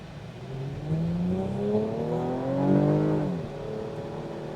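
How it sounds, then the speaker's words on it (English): A 2024 Chevrolet Camaro 3LT Convertible Collector's Edition gives a steady, close engine growl that rises as it revs, peaks, then eases back to a lower drone. It plays alone, with no voices over it. "Has a nice growl to it. Not a V8 growl, but a very specific engine sound."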